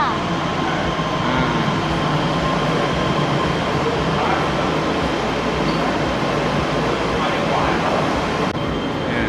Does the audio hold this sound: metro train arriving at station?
yes